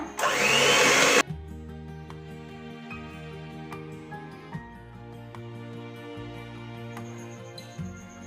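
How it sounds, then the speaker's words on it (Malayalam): An electric mixer beats plum cake batter in a loud, close whirring burst of about a second, then cuts off as soft background music carries on. "ഇത് ആഡ് ചെയ്ത് കൊടുത്തതിന് ശേഷം ഒന്ന് ജസ്റ്റ് ബീറ്റ് ചെയ്യാം."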